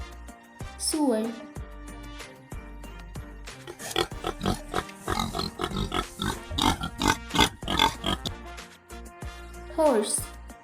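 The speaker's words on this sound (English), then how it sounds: "Pig" Pigs oink and grunt in a quick, repeated run of snorts, with short spoken words before and after and light music underneath.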